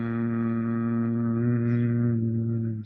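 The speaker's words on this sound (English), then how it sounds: "Just make a sound of humming." A person hums a steady, sustained tone on a slow out-breath through the nose, close and clear, holding one pitch alone for the whole stretch with no talking.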